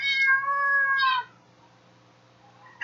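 A cat gives two loud, close meows in quick succession while a dog tries to chase it, followed by near silence and a brief soft sound at the end.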